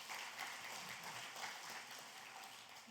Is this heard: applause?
yes